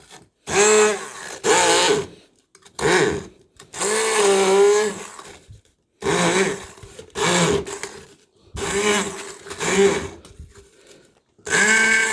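A kitchen blender grinding a crispy chocolate smoothie, running in about eight loud pulsed bursts, each a second or so long, separated by short silences, with a whirring motor pitch that shifts as the contents churn.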